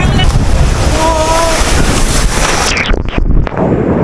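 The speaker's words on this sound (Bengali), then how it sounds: "দেখতে পাচ্ছ বেশ বড় সাইজের ঢেউ।" Big sea waves at Digha beach roar loud and close as continuous broad surf noise, buffeted by wind on the microphone, with a brief faint voice and a few louder thumps near the end.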